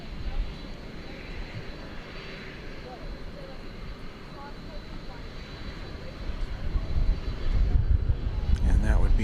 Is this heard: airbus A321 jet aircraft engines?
yes